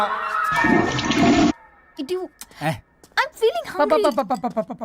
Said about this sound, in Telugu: ఫ్లష్ కొట్టడం మర్చిపోయావు